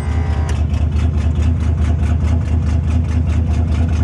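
An old junk engine rumbles low and steady close by, turning over with a rough, uneven chug as it begins to catch and run after a hard start.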